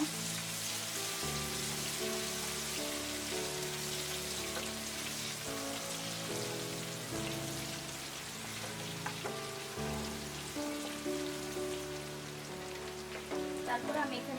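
Crushed local garlic sizzles in hot oil in a pan for an olive pickle, a steady crackling spatter with intermittent pops, fairly quiet and close, with no talking.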